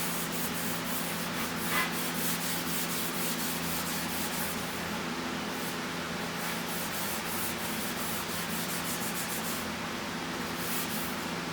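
An abrasive paint polish is rubbed by hand over a painted surface, a continuous close scrubbing hiss with rhythmic back-and-forth strokes, steady throughout and without talk.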